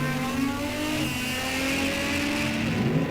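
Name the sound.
drag racing, 1985 Suzuki GS 1100E motorcycle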